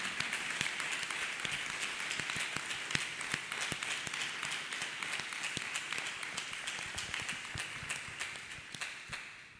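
A church congregation claps hands at a testimony service, a dense, steady patter of many hands that carries on for about ten seconds at a moderate, somewhat distant level.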